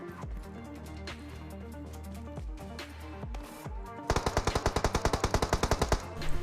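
Rapid bursts of automatic gunfire ring out during a PUBG Mobile match, a dense rhythmic volley of shots near the end following scattered game sounds and music-like tones.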